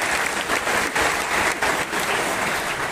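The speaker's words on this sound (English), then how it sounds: "I think you can clap your hands." Dense, steady applause from an audience, many hands clapping together without pause for a few seconds.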